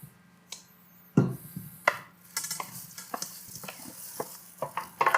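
Tomato, mint, cheese and lemon mixture being scraped into a bowl: close, intermittent scraping strokes and soft knocks against the dish, with a steady low hum behind them.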